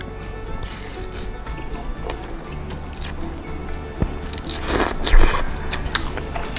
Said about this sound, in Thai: การกินเห็ดทอดอย่างเงี้ย มันมีรสชาติอร่อยครับ